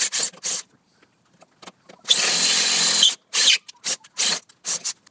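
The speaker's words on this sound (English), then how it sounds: "we're just going to get a drill bit and make it a bit bigger" A power drill with a drill bit bores out a hole in push mower handlebars, whirring in short on-off bursts with one longer, steady run of about a second, close by.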